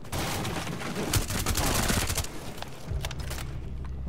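Sustained gunfire in a first-person shooter game, rapid bursts and overlapping shots packed tightly together, loud throughout and easing slightly toward the end, with no talking.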